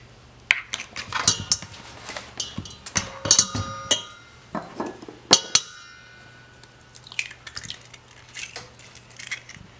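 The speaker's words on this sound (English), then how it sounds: "So I'm just going to crack my egg and put it inside." Sharp clinks and taps of an egg cracked against a bowl and dropped into box cake mixture, scattered kitchen knocks spread across the moment over a low steady hum.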